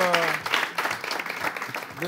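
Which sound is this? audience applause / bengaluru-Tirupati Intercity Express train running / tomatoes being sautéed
audience applause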